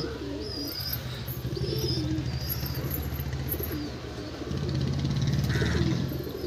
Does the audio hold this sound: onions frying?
no